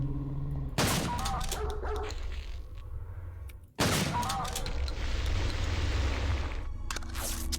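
A shotgun fires in the video game Wolfenstein: Blade of Agony. Two loud, booming blasts land about three seconds apart, each ringing out with a long roaring tail over continuous game noise.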